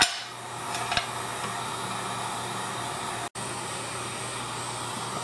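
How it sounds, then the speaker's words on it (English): A heat gun rated to about 600 degrees warms firearm parts such as a recoil spring assembly, giving a steady, close airflow hiss with a fan hum that runs continuously and drops out for an instant partway through. "I think this heat gun will go up to about 600 degrees"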